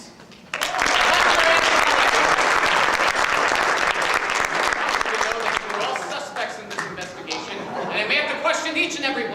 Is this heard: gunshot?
no